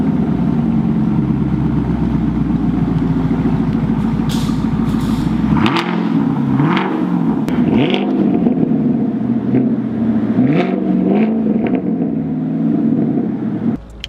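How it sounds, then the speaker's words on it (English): A 2017 Camaro 2SS with a newly installed exhaust, loud and close, rumbling at a deep idle and then blipping the throttle in several sharp revs that rise and fall, with no voices. "you heard the car sounded really good. It's like a nice deep tone. It was a deep idle."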